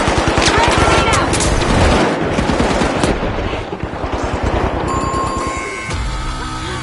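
Frag grenade blast and heavy gunfire in a fast-paced online FPS match, with continuous rapid automatic fire, loud bursts and game effects, and a voice talking over the action.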